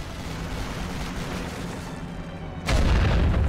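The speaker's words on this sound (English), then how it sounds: "We could blow this thing up." A target blown up in the World War I strategy game Great War Western Front, a steady low rumble of battle that jumps into a loud, sustained booming blast near the end, with no talking.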